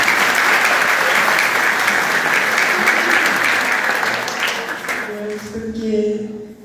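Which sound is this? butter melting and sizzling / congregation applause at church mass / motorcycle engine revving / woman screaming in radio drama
congregation applause at church mass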